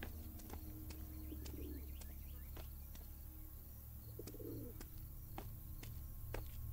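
Pigeons coo softly twice in a foggy forest of a horror video game, low rolling calls set against a constant background of insects and chirping, faint and distant, with no talk.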